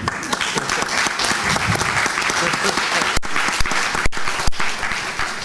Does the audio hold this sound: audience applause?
yes